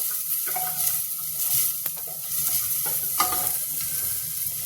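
Onion fries in ghee or oil with a continuous bright sizzle. Occasional spatula scrapes and stirs sound close by, and no voices are heard.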